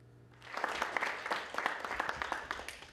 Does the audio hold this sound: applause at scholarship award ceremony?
yes